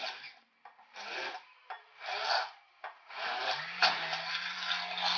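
A kitchen mixer grinds cheese, cheese spread and salt in bursts, a rough rasping whir that starts and stops several times before running longer, close and moderately loud with no talking.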